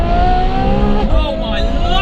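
A Ferrari F12 Berlinetta with an IP aftermarket exhaust roars loudly and steadily, its pitch dipping briefly before climbing again as the engine revs, with a voice speaking over part of it.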